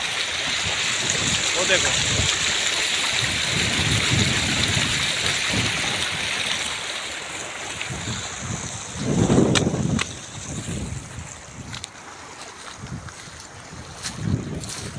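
River water flows steadily with a broad rushing wash, mixed with wind buffeting the microphone, while people talk briefly nearby.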